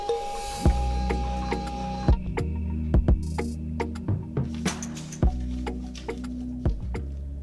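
An inkless memo sticker printer runs in a room, giving a steady low motor hum with irregular small ticks and clicks as it feeds and prints, close and moderately loud, with no talking.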